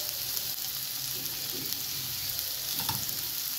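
Onions fry and sizzle in hot oil with a steady, close hiss, with occasional stirring, as they start to turn reddish.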